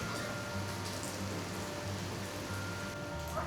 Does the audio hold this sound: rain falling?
yes